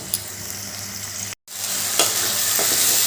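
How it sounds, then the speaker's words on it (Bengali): Onion-tomato paste with salt and ginger paste frying and being stirred in a pan for a cabbage dish; a continuous loud sizzle with a brief dropout, then scraping stir strokes, no talking. "এবার এই পেঁয়াজ টমেটোর পেস্টের সঙ্গে আদা বাঁধাটাও ভালো করে মিশিয়ে দিচ্ছি মশলাটা ভালো করে কষিয়ে নিতে হবে"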